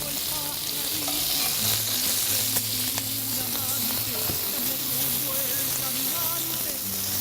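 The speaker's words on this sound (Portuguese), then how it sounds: "O nosso rabo então tá fritando, tá?" Oxtail dredged in wheat flour frying in lard gives a steady, even sizzle throughout, with faint stirring and scraping sounds close by.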